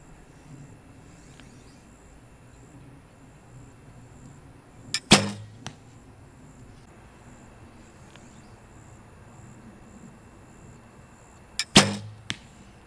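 Arrows shot from a Hoyt Formula recurve bow during tuning, two sharp, close snaps about seven seconds apart, each followed by a short rattle, over a faint, quiet background.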